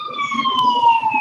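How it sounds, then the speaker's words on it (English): A fire truck siren wails steadily and loud, a close sustained tone that shifts slightly in pitch as it moves past. "Is that an ambulance? Fire truck?"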